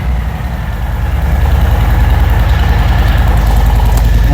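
A Harley-Davidson Fat Bob 114 motorcycle fitted with an S&S exhaust idles just after starting, its deep, lumpy, steady rumble close and loud, rising slightly in level over the first second.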